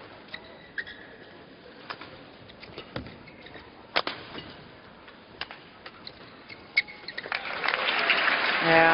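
A crowd at the 2008 Japan Open badminton semi-final starts applauding after a point; scattered sharp shuttle-like clicks and thin clapping build to a swelling round of applause near the end.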